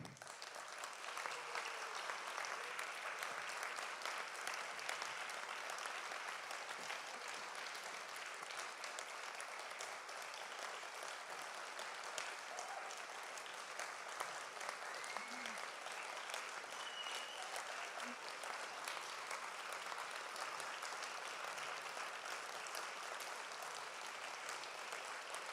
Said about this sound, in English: I'd like us to give him a round of applause, none other than John Loretz